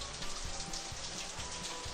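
Steady rain shower falling on a surface, with dense continuous patter and faint recurring low thumps, even in level throughout and heard alone without voices.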